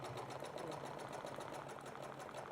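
A Juki sewing machine stitches fabric for a Halloween pillow with a steady, quiet, rapid mechanical whir and regular needle ticks, running without a break and with no talk.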